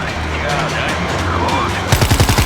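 Rapid bursts of gunfire from the zombie shooter World War Z, set in Moscow, erupting loud and close near the end of the clip after a stretch of dense game noise.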